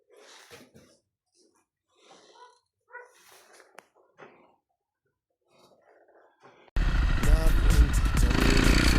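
Honda CRF250R motocross bike riding, a loud continuous engine roar filling the last two seconds after a stretch of quiet talking.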